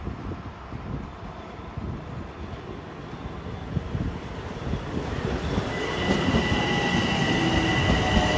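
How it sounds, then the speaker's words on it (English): A Long Island Rail Road train from Long Island City to Port Jefferson rolls into Merillon Avenue station with a steady, growing rumble of wheels on rails and faint squealing tones as it nears and slows. "Here comes train 666 from Long Island City to Port Jefferson."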